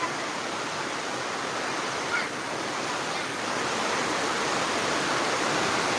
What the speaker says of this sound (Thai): ฝนตกครับเปียกหมดแล้ว